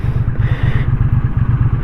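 A 2023 Triumph Bonneville T100 motorcycle engine idles close by with a steady, even thumping pulse and no speech.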